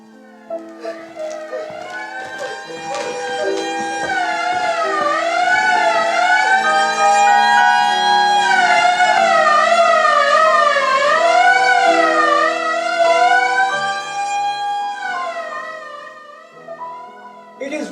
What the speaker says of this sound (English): An ambulance, speeding to the hospital, having picked up some poor devil.